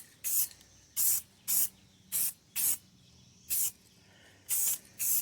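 A spray can lays a thin coat of paint on the bumper trim of a 2011 Subaru Outback in short, close hissing bursts, about eight in quick succession with brief pauses between.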